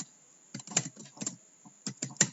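Code is typed on a computer keyboard in a quiet room, with close, crisp clusters of keystrokes broken by short pauses over a faint steady high tone.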